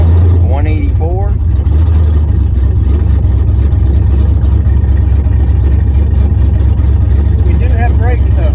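HEMI-swapped Dodge Dakota truck engine droning loud and steady from inside the cab while driving, a heavy low rumble running the whole time beneath occasional speech.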